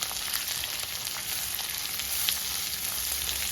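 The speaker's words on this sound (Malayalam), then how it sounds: "സവോള നന്നായിട്ട് വഴണ്ട് കിട്ടണം" Onions sizzle and fry steadily in a pan for a Kerala-style soya roast, a constant close crackle with small pops, no voices over it.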